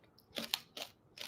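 Crisp crunching bites of a Butterfinger candy bar, three separate bursts spaced across the moment, close and fairly quiet with no talking.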